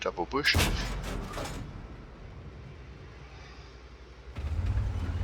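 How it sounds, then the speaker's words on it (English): Two blind tank cannon shots ring out in World of Tanks on the Prokhorovka map, a heavy blast near the start followed by a long rumbling decay and another boom toward the end. "I'll try 2 blind shots into him."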